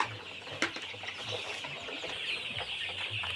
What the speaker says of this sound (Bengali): এই যে মুরগিগুলো খুব সুস্থ আর সুন্দর মুরগি